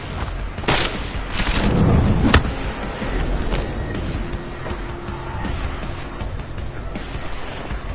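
Gunfire in the video game Deus Ex: a couple of sharp shots and a heavy booming burst, loud and close, then a sustained rumbling din of combat noise.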